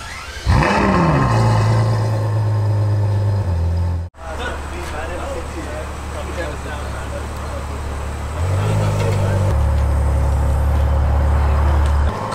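A Ferrari 812 Superfast V12 cranks and fires with a loud rising flare, settles to a deep idle, cuts out briefly, then restarts and climbs to a higher, steady warm-up idle close by.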